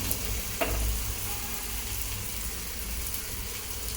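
Vadape dough, a North Karnataka flatbread, sizzles steadily on a hot oiled pan, a soft continuous frying hiss with faint crackles and a brief tap near the start, no voices.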